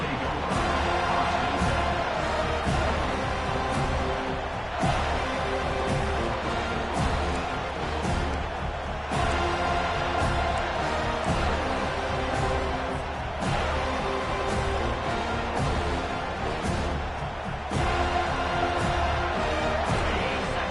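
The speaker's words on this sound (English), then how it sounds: "This crowd bringing an ear-splitting welcome to their visitors." A stadium crowd at a college football game between FSU and Virginia roars continuously and loudly throughout, a dense, sustained wall of cheering with surges, with a broadcast commentator's voice occasionally audible over it.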